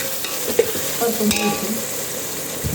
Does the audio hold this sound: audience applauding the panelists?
no